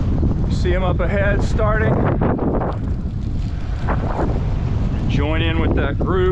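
Steady wind buffets the microphone while cycling in the Muenster Germanfest bicycle rally. The rushing gusts roar throughout, and a rider talks over them at intervals.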